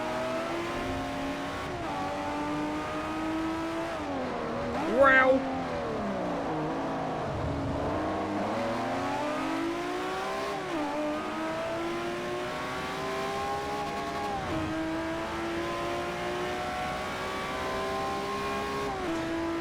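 Engines of Lamborghini race cars on a track day in Forza Motorsport 4 drone and rev steadily with rising and falling pitch through gear changes, a brief louder burst midway, and a single spoken exclamation.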